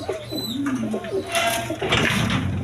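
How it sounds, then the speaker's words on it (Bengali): A pair of high-flying Giribaz pigeons coo close by in low rolling, throaty calls, with rustling and faint background noise. "এখানে এক পেয়ার গিরিবাস কবুতর আছে হাই ফ্লাইং গিরিবাস কবুতর"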